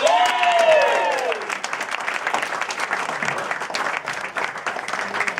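An audience breaks into dense, sustained applause, many hands clapping together close by, at first overlapped by a brief cheering voice, then continuing steadily to the end.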